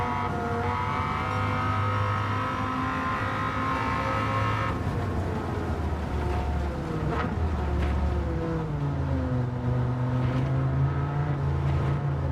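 A race car engine held in fourth gear in Gran Turismo 7, a big-displacement, torquey motor droning loud and steady, its pitch sagging and rising with throttle and a brief shift-like break partway through, no talk over it.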